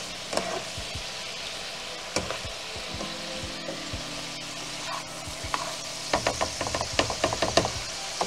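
Garlic shrimp fry in a pan with a constant sizzling hiss, while a utensil stirs with scattered scrapes and clatters that grow busier toward the end, close by with no talking.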